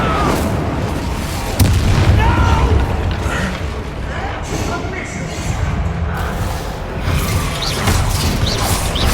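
Incendio fire spell cast in Hogwarts Legacy amid a busy combat scene, with booming magical bursts and crashes layered over constant game action, music and short spoken spell calls.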